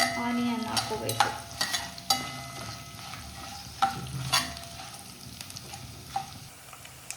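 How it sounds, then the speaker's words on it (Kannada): Peanuts, chilli and curry leaves frying in a pan with a steady crackling sizzle, broken by several sharp scrapes and clinks of stirring. Close and fairly loud, with no voices. "ಕಡಲೆ ಬೀಜ, ಚಿಲ್ಲಿ, ಕರಿಬೇವು ಫ್ರೈ ಆದಮೇಲೆ ಆನಿಯನ್ ಹಾಕೋಬೇಕು."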